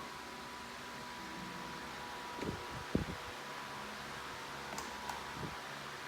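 A Lasko pedestal fan motor runs with a steady, even whoosh of air and a faint hum, joined by a few brief knocks and rattles near the middle.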